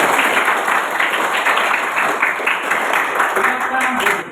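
A classroom of schoolchildren clapping together, a dense, continuous patter of many hands close by, with a few voices showing through toward the end.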